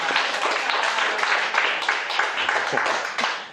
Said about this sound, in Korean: 우리 환영의 박수 이렇게 하도록 하겠습니다